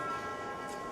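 A bell rung to mark the end of time in a portrait painting contest, one sustained ringing tone with steady harmonic overtones that holds evenly through the moment and fills the room.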